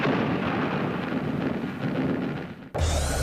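Submunitions dropped from an Apache against an enemy target explode in a continuous, heavy, roaring rumble of blasts that fills the scene, cut off abruptly near the end and followed by a brief burst of low, booming noise.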